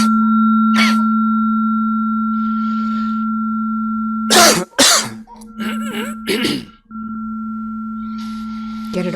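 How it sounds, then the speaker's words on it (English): During a guided release session, several harsh coughs and throat-clearing bursts break out in a cluster midway through. A steady, sustained electronic tone hums beneath them, and it is otherwise quiet. "Cough it out."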